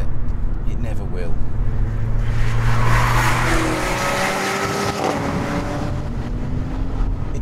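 A Mercedes CLA45 AMG four-cylinder engine revs hard and climbs in pitch through repeated upshifts, loud and close throughout, with steady road and wind roar underneath.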